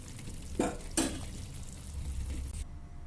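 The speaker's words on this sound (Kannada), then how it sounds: "ಈಗ ಇದು ಒಂದು ಹತ್ತು ನಿಮಿಷ ಕುದಿಲಿ" Rasgulla boil gently in sugar syrup with a soft, steady bubbling simmer, broken by two brief clinks of a utensil against the pot near the start.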